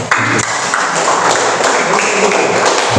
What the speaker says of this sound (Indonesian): Kita berikan aplaus untuk kita.